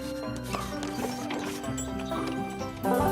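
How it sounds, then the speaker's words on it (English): Horse-drawn carriage with hooves clip-clopping in an animated scene, light irregular hoof knocks layered over music and background sound, with a brighter burst near the end. "we have all of the finest comforts, like horse-drawn carriages"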